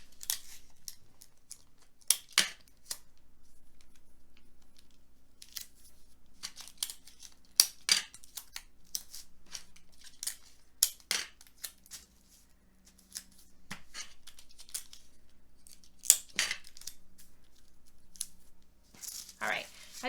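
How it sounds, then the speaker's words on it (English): Scissors trimming a sheet of tracing paper give sharp, crisp snips and crinkly rustles, scattered irregularly over a quiet room with long gaps between the bursts. "I've used a larger piece of tracing paper than this, so I'm going to trim that off"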